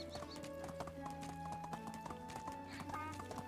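Horse hooves clip-clopping at a steady trotting rhythm in the medieval village game Medieval Dynasty, with a brief whinny and continuous background music underneath.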